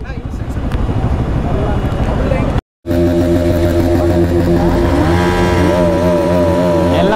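Bajaj NS200 motorcycles idle and run close by at a rally, a dense, chugging mechanical drone that cuts out for an instant and then settles into a steady hum, with people talking over it.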